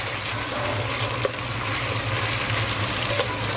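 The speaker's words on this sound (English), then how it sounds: "I want to start stirring it around" Tomato paste sizzles steadily in a hot pan while being stirred for a Moroccan braised lamb dish, giving a close, continuous frying hiss with a few soft scraping taps.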